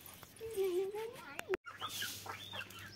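Chickens and chicks clucking close by on a farm, a few short clucks and peeps while a person talks over them.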